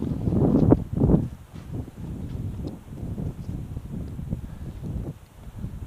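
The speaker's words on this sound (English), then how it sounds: "Wow, that's a west wind." Strong west wind roars across an exposed mountain ridge during a ski-mountaineering ascent, a steady low buffeting rush with gusts swelling near the start, under faint occasional voices.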